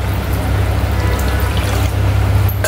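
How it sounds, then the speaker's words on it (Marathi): Water being poured from a bowl into thick, mashed pav bhaji in a pan: a steady, close pouring and sizzling wash that runs continuously throughout, with no talk. "थोडं एक वाटीभर पाणी घेऊयात आपण."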